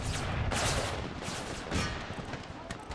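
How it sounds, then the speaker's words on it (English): Cannons firing canister shot in Empire: Total War, a battle on the Brothers vs. Brothers mod, heard as a dense rolling burst of overlapping blasts with crackling musket-like fire and faint voices beneath. "Cannons fire canister shot over the fence line at these guys."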